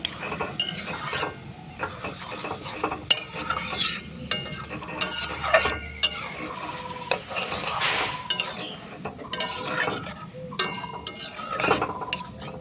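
Mashed tomatoes are stirred in a pan with a utensil, giving repeated scraping strokes and metallic clinks over a soft sizzle, close and uneven in rhythm.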